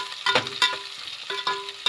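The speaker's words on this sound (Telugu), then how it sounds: "అలాగే ఉల్లిగడ్డలు, కట్ చేసిన ఉల్లిగడ్డలు కూడా వేయండి. చూడండి, వీటిని కొద్దిసేపు ఫ్రై అవ్వనివ్వండి." Chopped onions and green chillies fry in a pan for a Telugu poha (atukulu) dish, a soft, steady sizzle broken by a few brief stirring scrapes, close and moderately loud with no talking.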